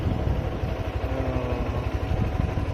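A motorcycle engine idles nearby with a steady, low, throbbing putter and rapid rhythmic pulses.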